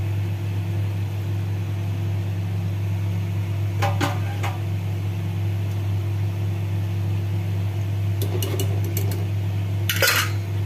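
Spaghetti with fried vegetables is stirred in a pan, giving a few short metallic clinks and scrapes, one isolated and then a quick cluster, over a loud steady kitchen hum.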